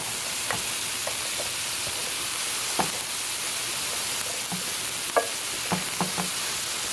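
A sweet potato and onion mixture frying in a pan gives a steady loud sizzling hiss, with scattered light clicks and scrapes of stirring throughout and no talking.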